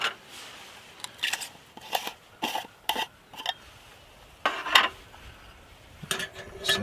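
Light metallic clinks and taps come in short separate bursts as a simmer ring is lifted off a Firebox Scout alcohol stove, fairly quiet with small pauses between the clatters.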